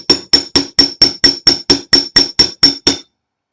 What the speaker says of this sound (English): Hammer the end.